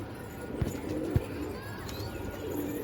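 Pigeons perched near a water tap give two short, low coos close by, faint against a steady outdoor hum.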